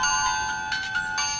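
A cellphone rings with an incoming call, a bright, close melodic ringtone that plays steadily throughout, with no voices over it.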